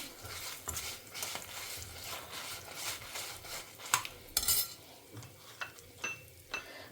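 Urad dal and curry leaves frying in a pan, a faint crackling sizzle with frequent scraping and clinking strokes of a spoon stirring against the metal, fairly close and with no talking.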